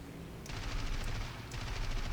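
Aircraft machine guns fire in the War Thunder flight game, with two rapid, loud bursts of rattling fire close up, the first running about a second and the second starting soon after it.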